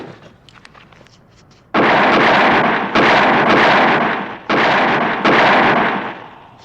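Movie gunfire and explosions in a cinema: loud, heavy blasts and rattling fire arrive in several sustained bursts with brief dips between them, overwhelming everything else.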